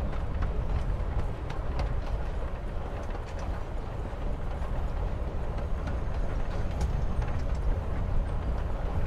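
Train riding along the rails in the game Life Is Strange: Before the Storm, a steady rumbling rattle with rhythmic clatter that continues evenly and close throughout, with no talk.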